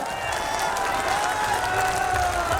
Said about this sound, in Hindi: जरा हाथ उठा के ताली बजा दीजिए